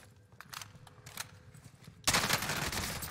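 Video game gunfire striking the player, a sudden loud dense burst of shots that erupts after a couple of seconds of quieter footsteps and scattered sounds.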